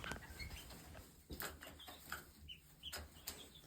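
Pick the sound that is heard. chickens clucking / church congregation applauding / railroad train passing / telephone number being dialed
chickens clucking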